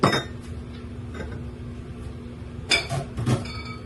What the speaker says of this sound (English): I'm gonna hit that spoon on that pot a little bit so that the rest of the ingredients can fall out